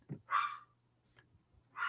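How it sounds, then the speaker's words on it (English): Several dogs bark indoors in short, sharp bursts with pauses between, fairly close and loud with no talk over them. "I knew the dogs would kind of be going crazy."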